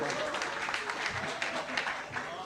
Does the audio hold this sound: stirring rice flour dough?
no